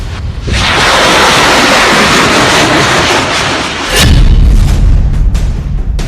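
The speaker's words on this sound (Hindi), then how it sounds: "मिसाइलें इधर भी दागी जा रही हैं, मिसाइलें उधर भी दागी जा रही हैं" Explosive booms from missile strikes in war news footage, a loud sustained roar of blasts with a heavier low boom near the end, no talk.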